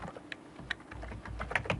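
A computer keyboard is typed on while entering text into a form field: a short, moderately quiet patter of separate key clicks over a low background hum, with no speech.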